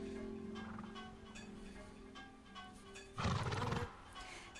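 Video game ponies giving a short whinny, a single bright neigh burst near the end, heard faintly over quiet in-game ambience and soft tones.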